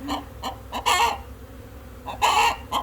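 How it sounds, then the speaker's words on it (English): A hen clucks loudly after laying an egg, giving short rhythmic clucks broken by two longer, harsher squawking bursts, close by, with no speech. "This chicken just laid an egg in there."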